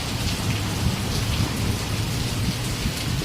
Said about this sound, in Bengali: প্রচণ্ড পরিমাণে বৃষ্টি হচ্ছে এখানে।